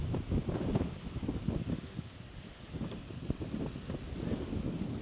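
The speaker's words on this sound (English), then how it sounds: "Quite windy out here." Strong wind in Badlands National Park during a bike trip buffets the microphone with continuous low rumbling gusts that rise and fall without a break.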